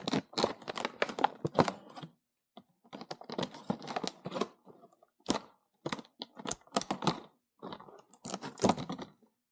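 Plastic packaging around a Dukes saw chain is snipped and crinkled open: close, crisp bursts of cutting and crackling in irregular clusters, separated by short quiet gaps.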